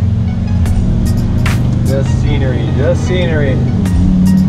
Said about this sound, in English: we are taking off the Lambo